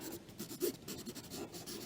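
Pencil scratching over paper during a quick charcoal landscape study, a soft, close, irregular scratching of short strokes, faint and alone.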